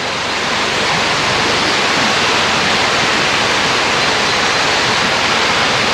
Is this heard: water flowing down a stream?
yes